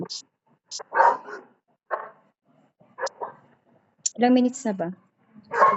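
Dog barks and yips come in short bursts while a person talks briefly in between, the barking close and fairly loud.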